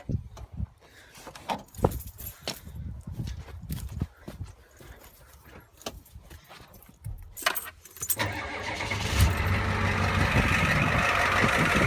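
Keys jangle and rattle up close, then a Ford 7.3L IDI diesel engine cranks and catches. It settles into a loud, steady, rough idle that continues to the end.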